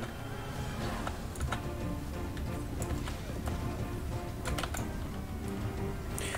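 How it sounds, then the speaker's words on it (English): Horses galloping in a cavalry charge during a Prophesy of Pendor battle: a dense, steady clatter of hooves and clashing fight noise runs throughout at an even, busy level. "Cavalry charge again."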